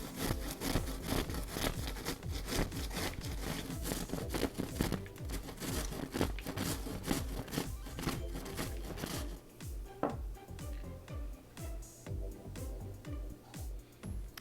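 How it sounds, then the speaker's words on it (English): A knife shreds a head of cabbage on a board, a steady rapid rasping and crunching of repeated close strokes that continues throughout. "I'm going to cut out the stem and then just begin to shred my cabbage"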